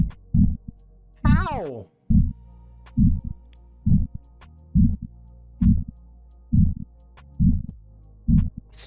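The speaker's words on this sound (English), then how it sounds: "They're so loud that even when walking past their tanks, you can hear audible pulsing sounds." Tiny transparent fish in an aquarium tank make loud, evenly spaced pulsing knocks as muscles pull their ribs against the swim bladder, repeating about twice a second, with a short spoken word partway through.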